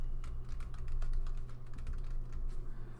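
Quick, close clicking of computer keyboard keys being typed in an irregular stream, with no talking.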